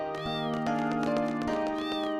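Cat meowing in Final Fantasy VIII Remastered, two clear, drawn-out meows close up with tonal game music sustained underneath.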